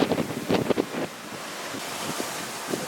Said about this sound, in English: Fine summer gale.